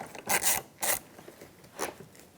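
A screwdriver backs Phillips-head screws out of an inner door handle on a 2013-2018 Toyota front door panel. It gives three or four short, close rasping turns separated by brief pauses.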